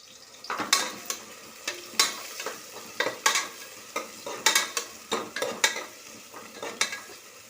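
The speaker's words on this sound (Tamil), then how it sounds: "வெங்காயத்தை நல்லா வதக்கிக்குவோம்." Onions sautéing in a pan for quail biryani, with repeated scraping stirs of a spatula at an irregular rhythm over a steady low sizzle, close and fairly loud, no voices.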